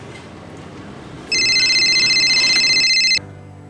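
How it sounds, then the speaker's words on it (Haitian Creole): A mobile phone rings with a loud, rapid electronic trill that starts abruptly and stops after about two seconds, over faint background noise. "mon téléphone me sonne"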